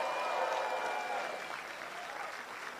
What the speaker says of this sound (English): give all the other candidates a round of applause